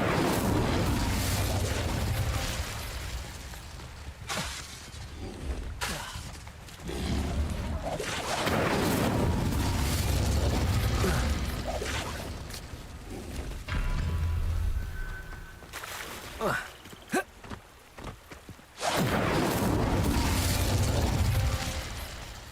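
Incendio fire spell cast in Hogwarts Legacy, a dense, loud stretch of roaring blasts and crackling mechanical bursts that surge and cut off repeatedly over about twenty seconds.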